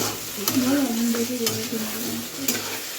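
Masala sizzles and is stirred in a pan, with a soft steady frying hiss broken by a few sharp scrapes of the spoon against the pan, close and fairly quiet with no voices.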